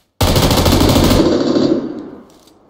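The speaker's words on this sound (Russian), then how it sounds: "Уяси, что у тебя такое, пулемет, что ли?" Machine gun fire in the battle royale game PUBG Lite, a loud sustained burst of rapid automatic shots that stops abruptly and leaves a fading echo, with no talk over it.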